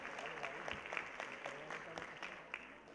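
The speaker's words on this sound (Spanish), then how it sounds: "ustedes aplaudieron más duro que eso." An audience at a welcome event claps in a light, scattered round of applause, quiet and somewhat distant, with a voice talking over it.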